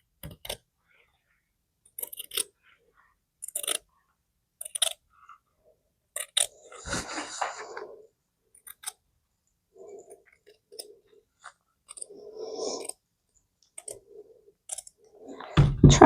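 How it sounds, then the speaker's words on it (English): Fabric scissors snip out a cross stitch piece in short, quiet, intermittent cuts, with sparse clicks of the blades and a few soft rustles of cloth in between, heard close up. "Now we're going to get our fabric scissors and we're going to cut this out."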